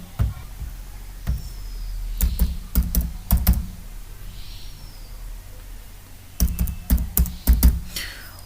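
Someone types an Aadhaar card number on a computer keyboard, with sharp, close clusters of key presses in two bursts separated by a quiet pause and no talking.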